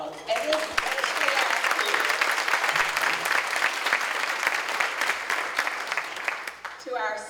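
An audience claps at a Beautillion Militaire ceremony, a dense, sustained round of applause filling the room, with voices mixed in near the end as it begins to fade.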